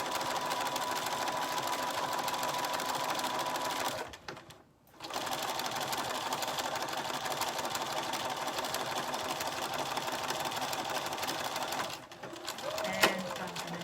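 A sewing machine stitches fabric in a long, steady, close whirring run, broken by two brief pauses, with no voices over it.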